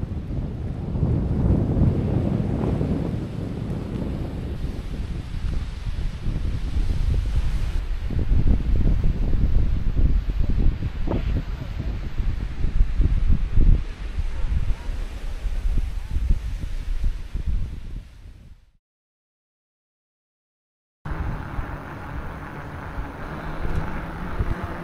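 Wind buffets the microphone while waves wash onto a natural beach in Tuscany, a steady rushing roar that drops to brief silence near the end before resuming.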